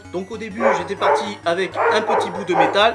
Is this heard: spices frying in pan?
no